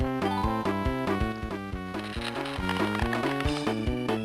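Ice eggs pickup tune from the Banjo-Kazooie: Grunty's Revenge game, a lively sequence of tuned melodic notes over a regular bouncing bass, heard clearly for several seconds with no voices.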